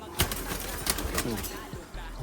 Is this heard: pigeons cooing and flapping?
yes